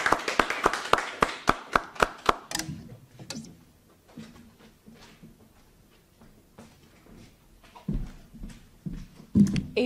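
Applause for 7th grade award recipients at a school awards ceremony, beginning with a few loud, evenly spaced claps near the recorder that fade into scattered, fainter clapping from a small crowd.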